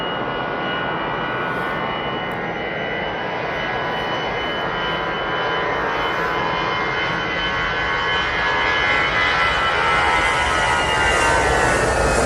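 A Ryanair airliner arriving from Derry at Manchester Airport gives a steady, broad jet roar that swells slightly louder toward the end, heard alone without talk.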